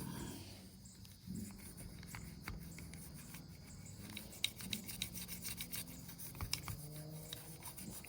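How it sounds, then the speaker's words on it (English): An old toothbrush scrubbing a carb-cleaner-soaked part, quiet close-up bristle scratching with sharp irregular strokes over a low background hum and no voices. "take an old toothbrush and really just scrub"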